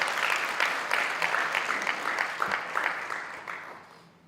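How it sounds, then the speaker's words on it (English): Sustained applause from a conference audience at a college policy conference, steady dense clapping for several seconds that gradually fades toward the end. "Let's give him a round of applause as he comes."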